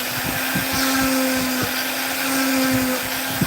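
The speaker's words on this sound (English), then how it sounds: "I'm going to use my fine flame burr and see how well this works so it doesn't rip out a lot of material" A Kutzall fine flame burr on a rotary carving tool grinds into soft wood with a continuous high whine. The whine is broken by short, repeated bursts as the burr bites, and the sound is close and steady.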